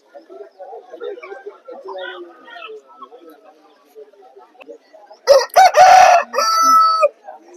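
A healthy, tall rooster up for sale at a Vijayawada market crows loudly and close by, one long crow following quiet talk.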